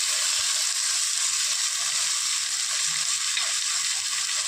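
Onions for a Kerala-style ulli curry fry in a pan, producing a continuous, even hiss of sizzling oil with faint stirring movement underneath, steady and close throughout.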